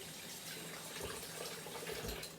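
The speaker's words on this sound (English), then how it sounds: "Just gonna rinse my hands off quick." A faucet runs in a steady, fairly faint hiss while hands are rinsed under it in a home kitchen, with a few soft splashes and no voices.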